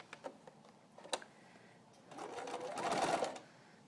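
A sewing machine stitches a quarter-inch seam in fabric, starting with a few light clicks and taps, then a short, steady whirring run of stitching, fairly quiet and close.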